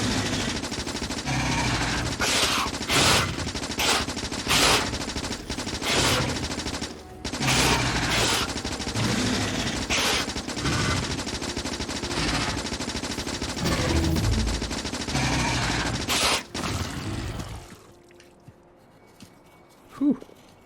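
Rapid automatic gunfire from a turret shooting at biters in Factorio, loud dense bursts that run almost continuously for about seventeen seconds, then stop abruptly into near silence with one faint late thump.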